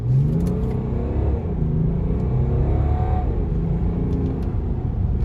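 BMW 540d xDrive diesel sedan, a 2018 US-model G30, pulling away hard from a standstill: a continuous loud engine roar with rising harmonic tones as it accelerates through the gears, steady and close for the whole stretch.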